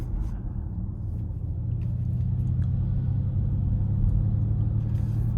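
A 2025 Ford Mustang Mach-E GT Performance electric car accelerating hard in Unbridled mode, heard from inside the cabin as a steady, deep road and motor rumble that swells slightly, with no talk.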